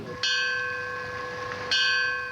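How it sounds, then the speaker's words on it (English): A somber memorial bell tolls for firefighters lost in the line of duty, struck twice about a second and a half apart, each clear ringing strike leaving a long, sustained metallic hum. "A somber bell rings."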